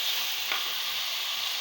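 Tomatoes being stirred into hot oil for kodigudu pulusu, a chicken curry, produce a continuous bright sizzle with one soft scrape of a spoon.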